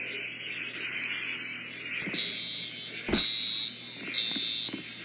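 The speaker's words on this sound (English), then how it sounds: "Did you hear that alarm?" A fire alarm rings inside the Roblox game Brookhaven, sounding as repeated high electronic beeps in short bursts over a steady background hum, close and fairly loud.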